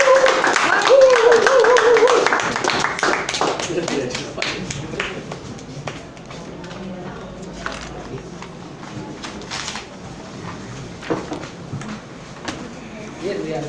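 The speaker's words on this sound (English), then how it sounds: "So let's give a big round of applause to Toastmaster Remil Panes." Members at a Metro Manila Toastmasters Club meeting clap in a loose, scattered way that thins out over several seconds, and voices talk over and after the clapping.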